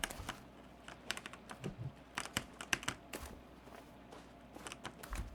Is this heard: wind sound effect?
no